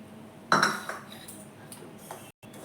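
A spatula scrapes and clinks against a kadai while besan and ghee are stirred for magas ladoo, with a sharp metallic burst early on and lighter intermittent scraping after it.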